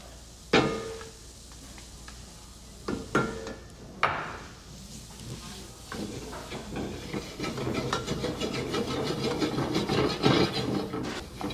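Onions and garlic sauté in a hot roux over medium-high heat, starting with a few sharp wooden knocks and scrapes, then building into a steady, growing sizzle and hiss with soft stirring rubs.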